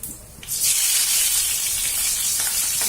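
Curry leaves and green chilies drop into hot oil on a gas stove at full flame and burst into a loud, steady sizzle that continues strongly, alone and close.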